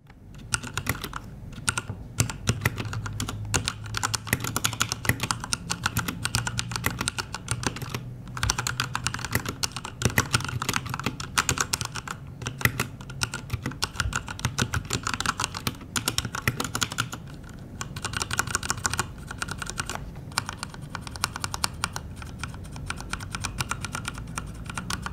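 Steady typing on a Cooler Master MK7 mechanical keyboard with linear Cherry MX Red switches, a fast, continuous stream of soft, muted key presses recorded close, with no talking.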